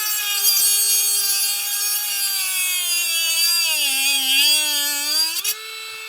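A DEPSTECH cordless rotary tool spins at full 30,000 RPM, a loud, steady high-pitched whine that dips slightly as it cuts through material, close up and alone.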